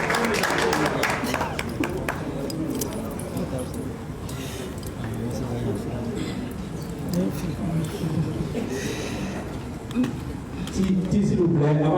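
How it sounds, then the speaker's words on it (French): Audience at a Malian press conference applauding, a steady wash of many hands clapping through the room with some voices mixed in, continuing for several seconds. "Applaudissez pour Tiché"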